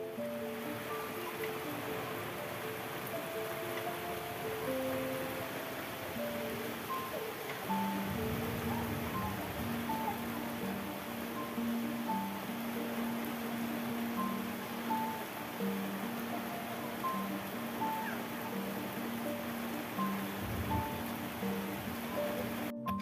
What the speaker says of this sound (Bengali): তো এদিকে চলে এসছে ঝমঝমিয়ে বৃষ্টি